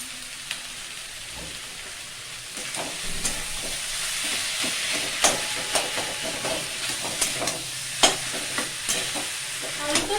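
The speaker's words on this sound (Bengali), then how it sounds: "আলু তো সিদ্ধই আছে, জাস্ট একটু ভাজা ভাজা করে নিলেই তরকারিটা রেডি হয়ে যাবে।" Boiled potatoes fry in a pan with a continuous crackling sizzle, while a spatula stirs them in repeated sharp scrapes that grow busier partway through.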